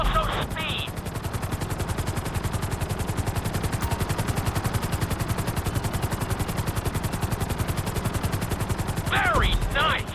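Rapid, steady thudding of helicopter rotor blades in the video game GTA V runs throughout, loud and close, with brief electronic bleeps at the start and end.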